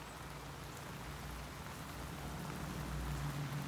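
Soft, steady rain falls on a backyard garden with sunflowers, a faint even patter with no voices.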